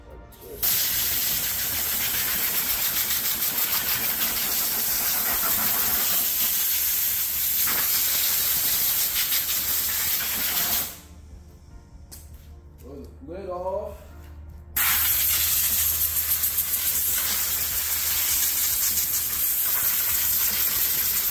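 Compressed air hisses loudly and steadily as it blows dust off the air filter of a Briggs and Stratton engine on a Toro Recycler 22 self-propelled mower. A short break and some brief talk come before another long blast.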